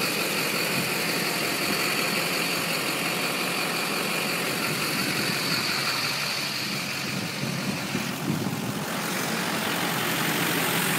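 A 2004 Chevrolet Silverado 2500HD 4x4 crew cab with a Duramax diesel idles steadily and smoothly, a close, even rumble with diesel clatter that holds constant throughout, with a slight dip in the middle.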